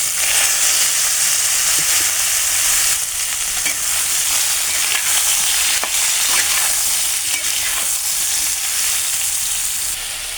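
Chopped ridge gourd fries loudly in oil with bay leaf, dried chilli and panch phoron, a dense continuous sizzle broken by small clicks and scrapes of stirring.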